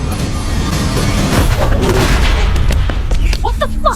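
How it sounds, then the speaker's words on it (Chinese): Rapid explosions and gunfire-like blasts in a sci-fi thriller action scene, a dense continuous barrage of booms and cracks that stays loud for the whole stretch, with no clear pauses. "很快爆炸声不断传来"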